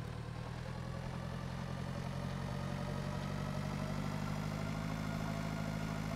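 A Zetor Major 80 tractor engine in the Pure Farming 2018 video game idles in a steady, unbroken low rumble throughout, even and moderately loud, with no voices.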